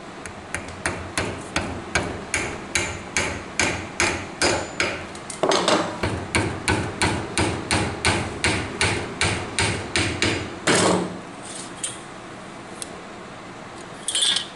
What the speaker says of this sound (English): your hammer starts to hit the other nails and it feels different and it sounds different.